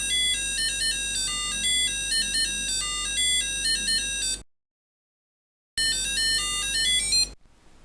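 A beeping square-wave melody from the Epoch-Man handheld LCD game, played as a steady stepping tune that cuts out for about a second and then restarts, bright and thin with no voices.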